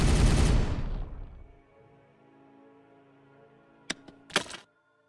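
Weapons fire in the Warhammer 40K Regicide video game: a loud blast that decays into a ringing tail, followed later by a few short sharp cracks before silence.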